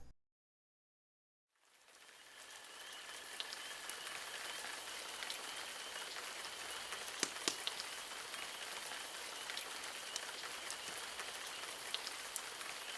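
Steady spring rain falls in a small town at night, an even, dense patter on surfaces with occasional louder drops, continuous and close with no voices.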